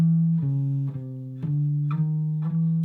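A jazz walking bass line played alone on guitar with no chords, one clear plucked note roughly every half second in an even, steady stepping rhythm, close and moderately loud.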